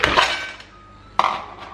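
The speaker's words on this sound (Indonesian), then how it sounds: "Wajan, masukin ubi manisnya, masukin labu menteganya" Sweet potato and butternut squash chunks dropped into a wok, giving two sharp clattering impacts with metallic ringing, the first followed by a brief rattle and the second after a short pause.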